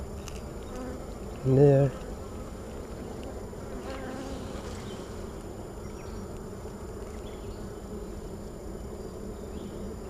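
Honey bees buzz in a low, steady drone around an open hive during an inspection, with a brief short spoken phrase near the start over the constant hum.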